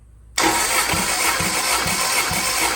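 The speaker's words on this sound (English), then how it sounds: "gonna power the starter up, and we're gonna see how much compression is in each cylinder" A Toyota 20R engine cranking on the starter during a compression test, a sudden onset of steady whirring with rhythmic low chugs about every half second as the cylinders come up on compression, loud and close.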